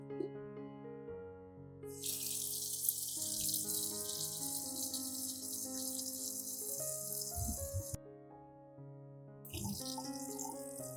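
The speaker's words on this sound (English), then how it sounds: "Rinse under running water." Tap water runs steadily in broad hiss over bananas being rinsed, starting after a couple of seconds and stopping near the eighth, then resuming, over soft background music.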